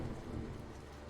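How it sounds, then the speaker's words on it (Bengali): Rain falls steadily with low rumbling thunder beneath it, a soft continuous wash heard alone as a horror-story sound effect. "রাস্তায় আস্তে আস্তে বৃষ্টি পড়তে শুরু হয়।"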